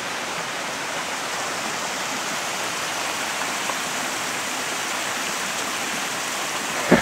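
A creek rushes below a tree about 15 feet up, giving a steady, broadband wash of flowing water that stays even and fairly loud throughout, with no voices.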